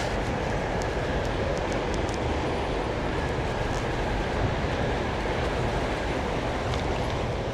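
A loud, continuous rushing roar of a high-speed train passing close by on the HS1 Eurostar line, steady throughout with faint rattling clicks on top.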